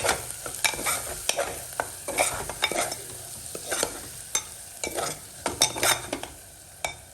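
Spiced chana dal in a pressure cooker pot, stirred with a spoon, giving irregular close scraping and clinking strokes over a soft background sizzle, with no talking.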